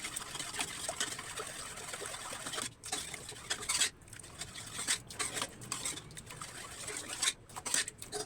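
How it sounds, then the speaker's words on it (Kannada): Cooked lentils with tomato being mashed in a pot, with irregular soft scraping, squelching and clinking of a utensil against the pot, fairly close and without talk. "ಇದನ್ನು ಕ್ಲೀನಾಗಿ ಮ್ಯಾಶ್ ಮಾಡ್ಕೊಳ್ಳೋಣ"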